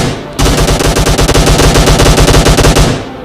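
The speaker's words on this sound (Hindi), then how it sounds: "ओ फायर हुआ सामने से, मुझे लग ही रहा था कोई है यहाँ।" Rapid automatic gunfire in the mobile shooter Battlegrounds Mobile India, a loud close burst of evenly spaced shots lasting about two and a half seconds, then cutting off.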